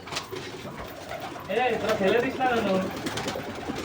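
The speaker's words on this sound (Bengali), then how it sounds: "এটা মেল পায়রা" A male pigeon coos close by in a soft, rolling burst through the middle, with a voice speaking briefly alongside it.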